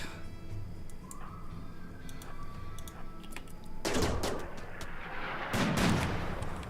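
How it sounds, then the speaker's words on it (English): Mortar rounds land in the video game Rimworld as two heavy, muffled booms several seconds apart, each trailing into a rumble over a low background of ambient game sound. "They're really going to shoot mortars at me here."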